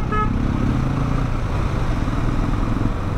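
A KTM 390 Adventure motorcycle's single-cylinder engine rumbles steadily in traffic for about three seconds, loud and close with a constant drone, on a ride from Mumbai to Panchgani.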